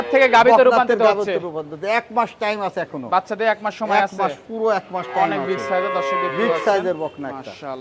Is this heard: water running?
no